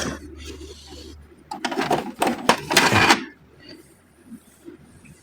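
An HP Smart Tank 615 inkjet printer whirs and clatters through a short power-on startup sequence, rattling loudest in the middle before settling into quieter clicks and hum.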